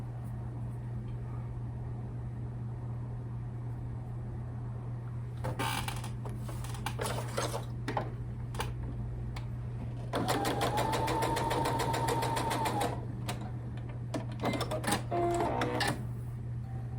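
A sewing machine stitches fabric in bursts: short runs of rapid mechanical clatter, then a longer steady stretch of whirring stitching over a constant low hum, close and fairly quiet.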